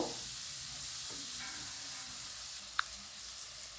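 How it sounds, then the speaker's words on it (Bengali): Potatoes fry in a pan for an omelette dish, giving a steady, low hiss of sizzling oil with a faint stir near the end and no talking. "আলুগুলো আমার বেশ লালচে করে ভাজা হয়ে গেছে"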